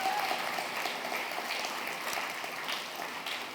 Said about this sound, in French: Vous pouvez vous applaudir parce que vous avez une belle église.